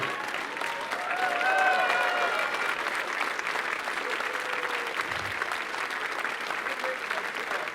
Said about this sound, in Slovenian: En aplavz za direktora radia, ki nam skozi stoji ob strani